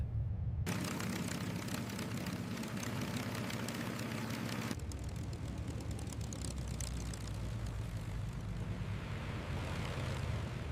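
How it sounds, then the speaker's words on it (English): WWII military aircraft engines starting on carrier decks before dawn, a dense loud roar that grows rougher and more powerful after a few seconds, then settles into a sustained running drone with no voices. "engines came to life across carrier decks"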